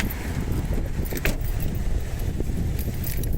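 Keys jangle in short metallic bursts close by, with a car and steady outdoor wind rumbling beneath on a windy day.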